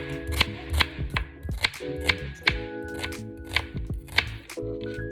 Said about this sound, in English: Now we're gonna go ahead and cut up our beautiful onions.